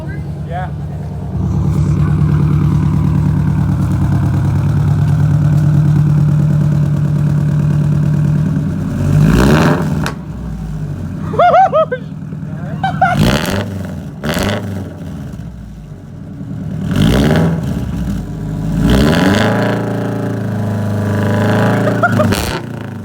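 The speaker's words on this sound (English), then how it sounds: "My car sounds like the Subaru again." A Subaru BRZ fitted with new headers idles with a loud, rich rumble, then revs in several sharp bursts, close by, with people talking in between.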